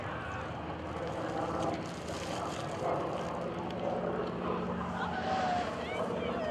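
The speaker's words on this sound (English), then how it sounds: "love the sound of the round engines that we're hearing" An F4U Corsair with a radial piston engine drones past at an airshow, a distant, faint, continuous engine rumble under crowd noise and an announcer's voice.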